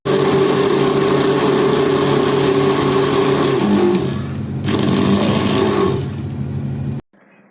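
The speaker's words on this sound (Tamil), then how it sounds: "இப்போ உடச்சிருக்க பிஸ்கெட்டும் சுகரும் நான் இப்போ பிளெண்ட் பண்ணிக்கிறேன்" A kitchen blender grinds broken biscuits and sugar into powder with a loud, steady motor whine. It cuts out briefly partway through, starts again, then stops near the end.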